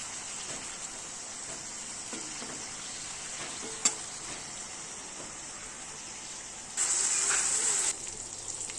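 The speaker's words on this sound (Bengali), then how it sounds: "এবারে ভেজে নেব" Chicken tikki patties sizzling in hot oil in a wok, a steady close hiss and crackle with a sharp clink partway through and a louder burst of frying near the end.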